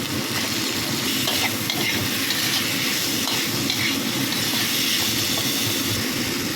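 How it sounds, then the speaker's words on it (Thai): Chili is stir-fried in hot oil in a pan, giving a loud, dense, continuous sizzle with busy scraping and stirring clatter throughout and no talking. "ก็ใส่พริกลงไปนิดหน่อย ผัด3 จานนะจ๊ะ"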